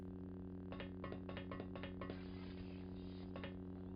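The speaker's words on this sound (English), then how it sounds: "You can listen to the lightsaber hum." A lightsaber in the Jedi Knight: Mysteries of the Sith video game gives a low, steady electric hum, quiet and continuous, with a scatter of brief metallic clinks over it.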